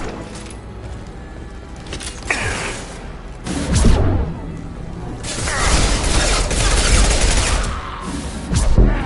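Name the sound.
gunfire in a video game (Mass Effect)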